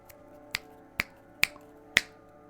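Four crisp finger snaps in a roughly even rhythm, each sharp and close, set against a faint steady hum in a quiet room.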